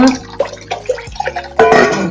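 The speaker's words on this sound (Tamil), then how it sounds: "இதை வடிகட்டுறது வச்சு வடிகட்டிட்டு கொஞ்சம் நார்மல் தண்ணி ஊற்றி" Normal tap water splashes and trickles over drained noodles sitting in a metal strainer, with scattered drips and a louder pour toward the end.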